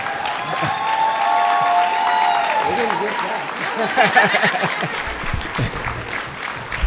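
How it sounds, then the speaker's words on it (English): Nursing students at an ADN pinning ceremony applaud their families; a sustained tone and voices lead in before a lively patter of clapping takes over, with scattered laughter and cheering from the crowd. "Let them know how you feel by your applause."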